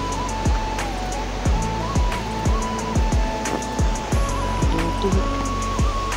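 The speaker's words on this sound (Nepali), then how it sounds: "म चाहिँ खोलाको छेउमा पुगिसकेँ" A riverbank on a rural footpath where a hill stream rushes steadily in a continuous close wash of water, with repeated low thumps from handling or footsteps and no talk.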